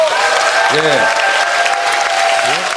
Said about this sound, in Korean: 여러분 다시 한번 격려의 박수 한번 주십시오.